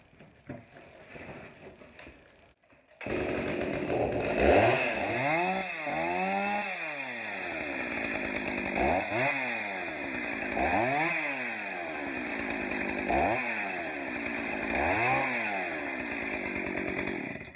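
After a few quiet seconds, a Jonsered 625 big bore gasoline chainsaw starts and runs loudly, its engine revving up and down repeatedly in rising and falling surges.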